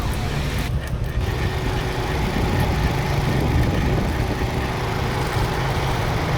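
A Kia Picanto car engine, with a newly reprogrammed ECU, runs steadily with a low, continuous rumble while warming up, held at a constant pitch throughout without distinct rises, close by and fairly loud.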